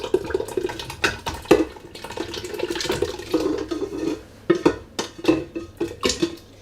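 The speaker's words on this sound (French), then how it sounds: "Je vais les remettre dans la cocotte." Blended vegetable purée for Algerian chorba is poured back into a cooking pot, with wet sloshing and splatter broken by clinks and scrapes of a utensil against the pot in several close bursts, without speech.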